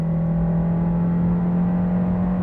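A car labelled a sports car pulls away on a favourite stretch of road after its sport boost button is pressed, with a loud, steady engine drone and whir heard from inside the cabin. No talking.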